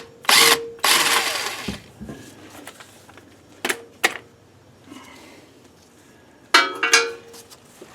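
Power wrench working bolts loose on a classic Ford Mustang 8-inch rear differential, with loud whirring bursts near the start, a couple of short sharp hits midway, and another burst near the end between quieter shop noise.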